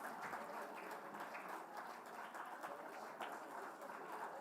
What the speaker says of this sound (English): I think we could keep the applause going for a little while longer